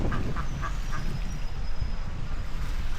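Ducks quack in a short series of nasal calls at a windy seaside animal enclosure, moderately near, over a strong rumble of wind.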